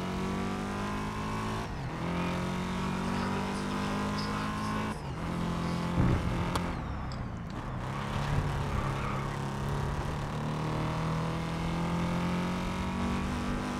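A Camaro race car in GRID Legends roars through a race, its engine droning and revving with gear shifts and brief bumps and scrapes, loud and close throughout while other cars pass, with no talking over it.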